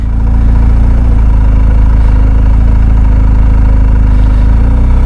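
A motorcycle engine idles steadily and close by, a loud, even low-pitched rumble with no talking over it.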